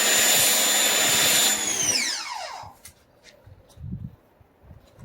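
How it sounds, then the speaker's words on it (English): An MJJC Foam Cannon Pro sprays thick foam in a loud, steady hiss that winds down sharply after about two seconds, leaving faint rustling and handling noises. "As soon as I pull the trigger, the foam is coming out nicely, uniformly."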